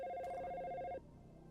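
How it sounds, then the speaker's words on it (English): A telephone rings in the video game Dino Crisis, a single steady electronic ring tone lasting about a second before cutting off into a quiet hum. "The phone will continue to page."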